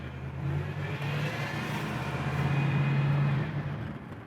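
A 1969 Camaro RS/SS Indy 500 pace car cruises smoothly, its engine humming in a steady low drone from inside the cabin, swelling slightly in loudness toward the end, with no talk.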